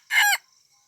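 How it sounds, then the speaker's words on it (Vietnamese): A young second-generation (F2) junglefowl rooster crows once from inside a coop, a short, loud, bright call lasting well under half a second, close by and alone against a quiet background. "đây là chuồng gà tơ F2 của mình này."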